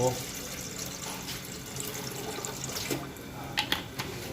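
Water poured into a cooking pot while making a sour Thai soup of giant snakehead fish, a steady close splashing with trickling and a few brighter drips toward the end.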